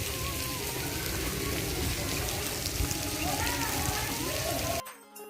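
Water rushing from the fountains in a garden at Saheliyon ki Bari in Udaipur, a loud steady splashing hiss up close, with people talking faintly beneath it before the sound cuts off abruptly.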